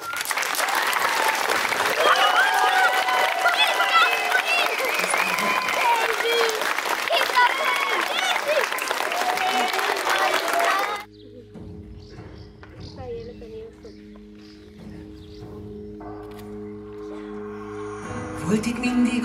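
Loud, sustained audience applause at a concert with a children's choir from a Füzesabonyi primary school, lasting about eleven seconds before it drops away and music begins.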